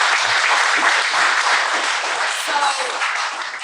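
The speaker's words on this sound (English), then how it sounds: "Clap it up." A short burst of audience clapping during a recorded podcast episode, fairly close and continuous, easing off slightly at the end.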